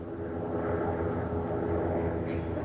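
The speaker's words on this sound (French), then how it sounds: "Ça, c'est un hélicoptère commercial" A commercial helicopter passes overhead, its steady broadband rotor-and-engine roar holding loud and continuous throughout with no voices.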